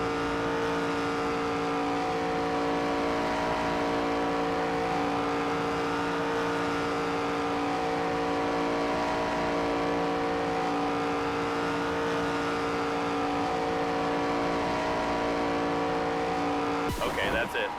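In NASCAR 25, an ARCA race car's engine drones loud and steady through a qualifying lap, a sustained high whine with slight pitch shifts and a brief burst of noise near the end.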